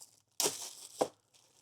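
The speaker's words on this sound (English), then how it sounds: "the filter is in a plastic bag, and it appears to be sealed. So I'm going to break the seal" Sealed plastic bag around a Fisker Ocean activated carbon cabin air filter being torn open, a close, quiet crinkly rip followed by a second short tearing snap.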